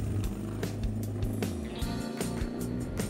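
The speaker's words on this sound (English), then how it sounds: "As I head out, I'm faced with the unrelenting Manila traffic." Busy Manila city traffic surrounds a moving motorcycle: a dense, rumbling wash of engines with intermittent clatters and thumps, steady and fairly quiet throughout.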